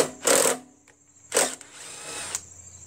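Two short, close bursts of a power driver spinning a 5/16 socket on bolts of a Craftsman 4.75 push lawn mower with a Briggs Quantum engine, each whirring about a quarter second apart from a quieter tail.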